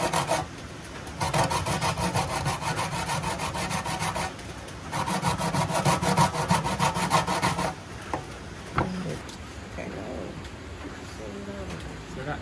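Chocolate being grated for spiced chocolate tea at a riverside camp in Jamaica, heard as bursts of rapid rhythmic rasping strokes, close and fairly loud, separated by pauses, with some talk and faint birds.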